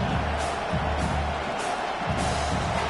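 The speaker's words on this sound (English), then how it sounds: "this crowd is making it miserable on this offense" A stadium crowd at a football game on fourth down keeps up a steady, loud roar that fills the whole stretch without letting up.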